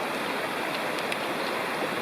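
A mountain creek in a wilderness area rushes past at a trail crossing, a continuous, even hiss of flowing water, close and fairly loud throughout.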